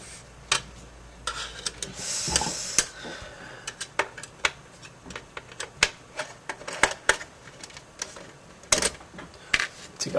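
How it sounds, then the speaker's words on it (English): Screws are backed out of an Xbox 360 DVD drive in a close series of small, irregular ticks and clicks, some sharper snaps among softer scraping, with no voice over them. "So what you want to do is take off these 4 screws."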